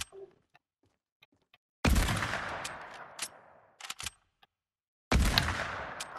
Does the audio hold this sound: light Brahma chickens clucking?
no